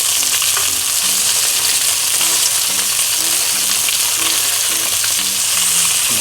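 Deep-fried tofu sizzles and spits loudly in a pan over high heat after being flipped, a steady dense frying hiss with faint scraping and clinks scattered through it.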